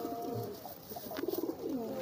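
Domestic pigeon cooing in courtship, a short rolling burst of close, low coos rising briefly above a faint background.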